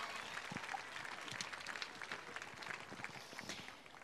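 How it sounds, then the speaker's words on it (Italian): Applause from a beach audience at a dance recital in Punta Secca, scattered clapping heard faintly and at a distance, fairly quiet and steady throughout. "un applauso enorme per queste instancabili ballerine"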